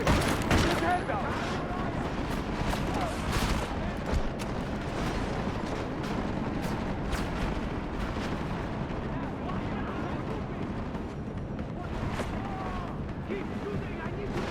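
Gunfire in the video game Deus Ex: Mankind Divided, a sustained battle of rapid shots and heavy bursts at moderate loudness, with voices shouting over the shooting.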